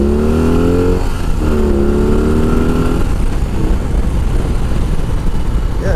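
A heavyweight American-style cruiser motorcycle idling at around 950 to 1,000 RPM once warm, a loud, close, steady low rumble throughout with a slight rise in pitch early on.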